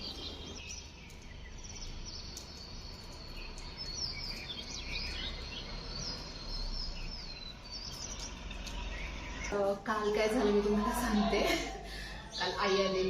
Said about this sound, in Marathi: पक्ष्यांचा किलबिलाट सुरू असतो आणि हे पहाटेपासूनच खूप जास्त प्रमाणात मला ऐकायला येतं